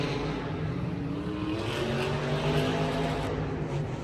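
Monster trucks race at a Monster Jam event in St. Louis, their engines giving a loud continuous roar with rising revs that sounds steady and distant through the arena.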